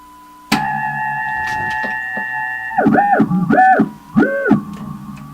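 A National HRO Sixty communications receiver in CW mode gives a steady electronic tone that starts abruptly and holds, then breaks into several short warbling bursts near the end, sounding like a radio's beeping signal.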